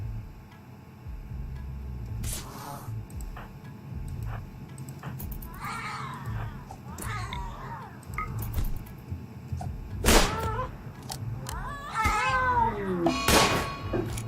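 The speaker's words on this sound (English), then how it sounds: "he killed the cat" A cat in the video game RimWorld meows and yowls in several short, distinct cries spread across the clip, heard over faint ticking and quiet background sounds, with no one talking.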